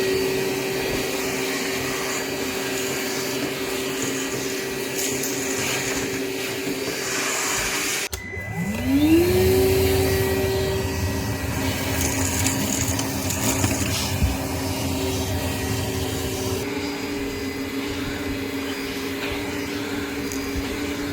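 A Kärcher WD 1 wet and dry vacuum cleaner hums along, cuts out briefly, then spins back up with a rising whine into a loud, steady suction roar close by.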